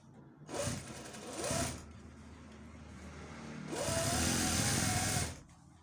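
A sewing machine stitches a small child's shalwar in two bursts, a short run and then a longer steady whirring run, each starting and stopping abruptly, close and fairly quiet with hushed gaps between.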